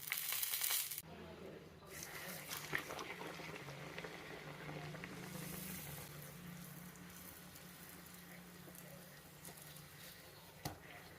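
Thurakkal, a snack of dough wrapped around a cooked onion masala, fries in hot oil with a soft, continuous bubbling sizzle that stays low and steady after a brief louder burst at the start.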